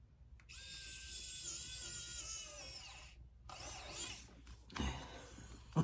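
A screw being twisted by hand into a handbag's hardware, giving a sustained fine ratcheting, scraping whir for about three seconds, then a shorter second burst and a few small clicks, close and fairly quiet, with no talking.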